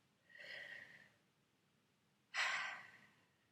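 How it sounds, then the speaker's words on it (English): Two deep breaths taken close and soft during a calming exercise: a long airy inhale, a pause, then a stronger, sharper breath out that fades slowly. "Deep breath."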